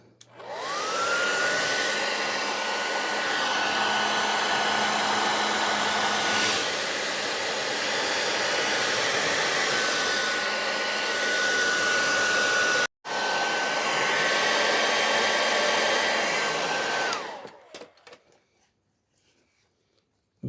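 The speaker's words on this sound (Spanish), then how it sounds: "Ahora vamos a secar." A hair dryer blows steadily for about seventeen seconds, drying a freshly painted patch on a repair, loud and constant with a faint whine, then cuts off and leaves near silence.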